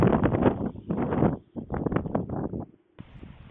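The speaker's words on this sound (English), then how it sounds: "I apologize for the wind." Gusty wind buffets a microphone in heavy, low rumbling bursts that swell and drop out, with brief quiet gaps between.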